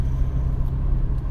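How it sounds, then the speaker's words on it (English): A passing car on the road produces a steady low engine and tire rumble at moderate distance, continuous throughout with no voices. "Oh, that car's turning."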